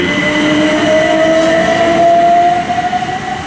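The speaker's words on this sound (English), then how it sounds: "now that train has departed" A Southend to York special train pulls away from Benfleet station, with a loud steady rumble of rail wagons and a rising tonal whine from the traction, slowly easing toward the end; no voices.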